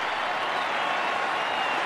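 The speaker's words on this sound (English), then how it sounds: "rise to their feet and cheer one of the greatest batsmen of all time" A crowd of 18,000 at a cricket Test match in Australia applauds and cheers Greg Chappell, producing a steady, dense roar of clapping that fills the air without a break.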